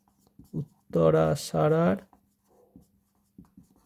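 Pen strokes scratch on paper in short bursts, quietly in the background behind someone speaking.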